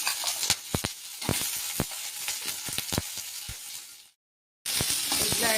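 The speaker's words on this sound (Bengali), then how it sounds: "এগুলো একসাথে আমি একটু ভেজে নিচ্ছি।" Chopped onion and capsicum fry with ginger in a hot pan, giving a loud, steady sizzle with scattered crackles and pops, then a brief dead gap before the sizzling resumes.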